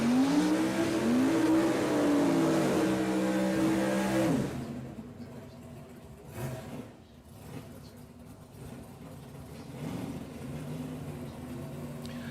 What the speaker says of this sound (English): we've got Craig Baker on board the rear engine dragster